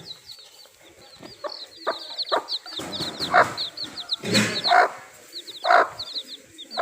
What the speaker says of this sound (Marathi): इथं कोंबडी आहे पिल्लं दिला नाही तिने दाखवूया